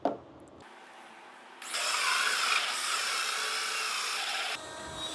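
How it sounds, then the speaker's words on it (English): A power drill fitted with a hole saw cuts a cup holder opening through a piece of wood, a brief low hum before a loud, steady grinding whir that runs for about three seconds and then cuts off. "Here's the drill saw"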